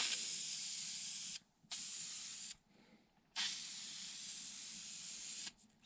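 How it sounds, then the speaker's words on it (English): A spray paint can hisses onto a gun in long steady bursts, three sustained sprays separated by short pauses, close and loud. "Spray it up."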